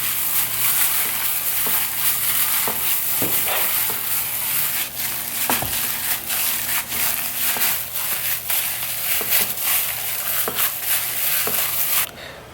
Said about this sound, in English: I'm going to mix everything up with my hands